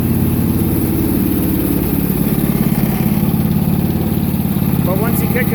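Ariens Deluxe 28 snowblower engine idling low at turtle speed, a steady close putter with even rapid pulses under continuous talking.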